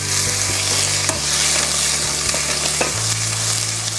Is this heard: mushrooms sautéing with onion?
yes